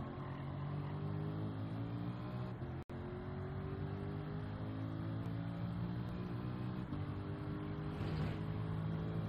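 Race car in Gran Turismo 7 on the Tokyo Expressway, a steady layered engine whine building under acceleration, continuous and fairly quiet with one abrupt momentary cutout.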